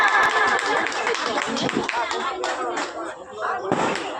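Audience applause at a children's award ceremony where young performers receive medals, a dense crowd of hands clapping loudly and continuously, with voices mixed in.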